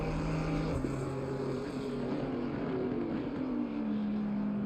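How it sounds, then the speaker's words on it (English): GT3 race car engines roar in Assetto Corsa Competizione at Silverstone, a sustained loud drone with rising and falling pitch as cars run through corners, with no talk over it. "Love the sound of the engines of these cars."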